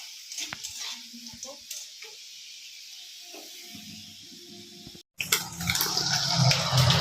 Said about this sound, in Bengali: এই যে দেখো ডিম ভাজা হচ্ছে